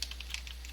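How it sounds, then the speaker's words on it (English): Quick, light clicks of keys being pressed on a computer keyboard, several soft taps in a short burst close to the listener, with no talk. "You can just press C on your keyboard"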